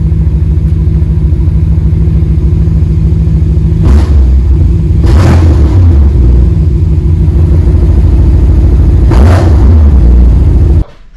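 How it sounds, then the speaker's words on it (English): A BMW M550i V8 idles with a loud, deep rumble close by, then revs sharply three times, each rise quickly falling back to idle before the engine cuts off at the end. "we'll do some revs"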